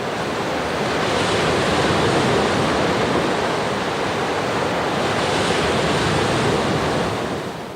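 Ocean waves surge and wash continuously, a broad steady roar of surf with gentle swells in loudness, heard alone without voices.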